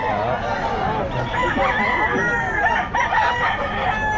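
Several roosters crowing at once at a pet market, overlapping calls close by, with clucking hens and a busy crowd of fowl filling the background.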